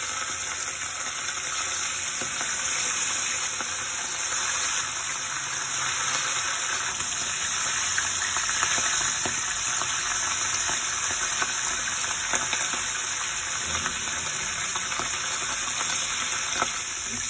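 Shishamo smelt frying in hot oil, a steady dense sizzle that runs unbroken and fairly loud throughout, with no voices.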